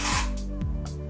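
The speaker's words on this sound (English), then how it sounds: "I'm just gonna spray it like inside of my hair just to make a bigger volume." A small can of Batiste dry shampoo sprays into short hair with one brief, close, loud hiss, which fades into a quiet room.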